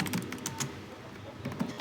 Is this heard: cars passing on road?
no